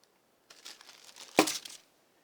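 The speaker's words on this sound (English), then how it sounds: "I save all these plastic bags things come in, just for when I want to do stuff like this." Thin plastic hardware bag crinkling close by, a short rustle building to one sharp tearing rip as it opens, then a few fading crackles before silence.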